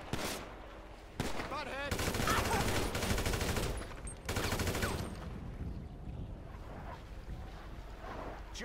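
Gunfire in GTA V, dense bursts of rapid automatic shots in several loud volleys with short gaps, mixed with game effects and shouted voices in between.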